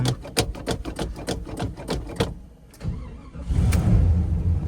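A Mercedes G-Wagon engine cranks in a fast rhythmic whir of compression pulses, falls quiet, then catches on a later try and settles into a loud, steady idle close by.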